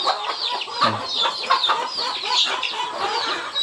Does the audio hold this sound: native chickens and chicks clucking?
yes